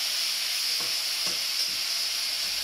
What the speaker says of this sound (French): Et avec ma spatule, je tourne mes morceaux.